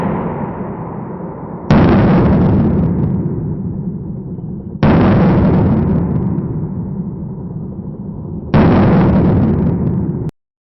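Three loud, sharp handgun reports from a Glock 19 Gen 5 fitted with a compensator, spaced about three seconds apart, each ringing out into a long fading tail before the next shot.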